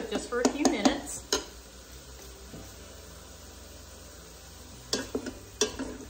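Beef simmering in a Ninja Foodi pot for a beef and broccoli stir fry, a low steady sizzle beneath a few sharp clanks and scrapes of a utensil against the pot, with quiet spells in between.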